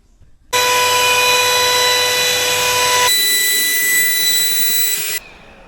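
A router cuts 18mm MDF cabinet panels, giving a loud, close, high-pitched whine that runs for about five seconds. Its pitch drops partway through as the bit bites into the board, and then it stops.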